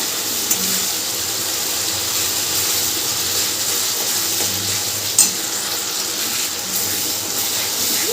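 Spice paste with turmeric and salt for a Bengali katla fish kalia sizzles hard in a hot pan, a close, steady frying hiss with a few scraping clicks as it is stirred; no voices.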